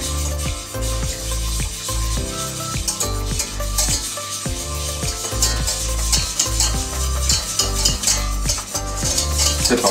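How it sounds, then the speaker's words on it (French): Choux pastry dough for chocolate éclairs is stirred in a pan over the heat, a close, rhythmic scraping and thudding of spoon against pan bottom with a faint sizzle, and no voices. "Et maintenant, on mélange."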